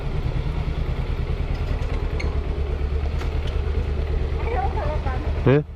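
A carbureted Kawasaki Ninja 250 motorcycle hums at a steady engine drone while riding, with a faint clatter and brief voices on top, ending in a sudden cut-off.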